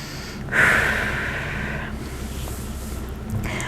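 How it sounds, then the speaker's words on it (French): A deep, forceful breath during a rest between workout exercises, one strong audible inhale-exhale up close, followed by quieter steady breathing. "On prend des bonnes respirations."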